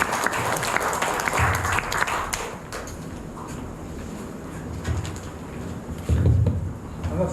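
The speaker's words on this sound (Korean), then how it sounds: "큰 박수 부탁드리겠습니다." Applause from the audience at the opening ceremony of a joint academic conference as the society's president comes forward, a broad wash of clapping that swells at the start and again near the end.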